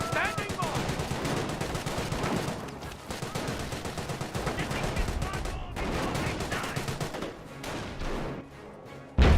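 Infantry gunfire in a Company of Heroes battle, with dense overlapping rifle and machine-gun bursts rattling continuously, plus scattered blasts and battlefield clamour, loud throughout and with a sharp hit at the very end.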